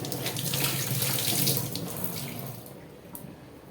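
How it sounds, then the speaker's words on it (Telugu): Tap water runs into a sink while mangoes are rinsed under it, a close, steady splashing gush that eases off toward the end with a few small knocks. "ఈ మ్యాంగోస్ శుభ్రంగా కడిగేసేసుకొని"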